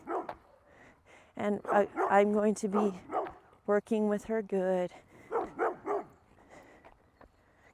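A dog on a neighborhood walk gives a burst of close, loud yipping barks and whimpers, mixed in with a handler speaking calmly before and after.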